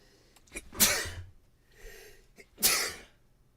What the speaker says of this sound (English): Watch me sneeze.